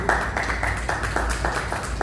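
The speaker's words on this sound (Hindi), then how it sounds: "आप चाहे तो अभी से ताली भी बजा सकते हैं इसके लिए" Audience clapping at a meeting of the Akhil Bharatiya Chaurasia Mahasabha in Delhi, a steady, dense patter of many hands running through the whole stretch without a break.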